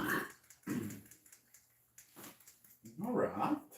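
A pet dog makes a few short, quiet growling and whimpering bursts separated by near silence, close by in a calm setting.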